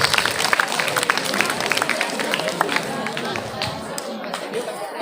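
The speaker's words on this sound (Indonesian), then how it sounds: "Tepuk tangan untuk dia, jawabannya betul 12." A crowd applauds a child at a school gathering, with dense, steady clapping from many hands filling the room for several seconds and fading slightly near the end, mixed with some background chatter.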